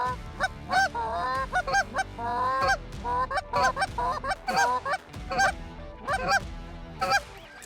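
Rapid, overlapping goose honks and clucks from goose calls blown by hunters in a blind, in quick back-and-forth rhythm, loud and close, with brief pauses between bursts.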